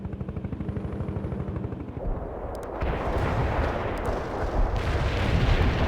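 Incoming artillery fire in the real-time strategy game World in Conflict: dense, heavy rumbling blasts and crackling impacts that thicken and grow louder partway through, with no talk.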